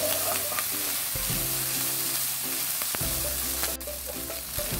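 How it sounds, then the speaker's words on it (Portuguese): Bacon and calabresa sausage fry in a pan without added oil, giving a steady close sizzle with a few sharp clicks of a utensil and no talk. "Agora é acrescentar aqui a linguiça calabresa e deixar fritar junto"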